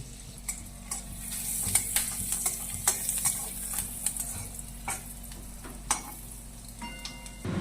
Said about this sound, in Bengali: রসুনটা একটু ভাজা ভাজা করে নিতে হবে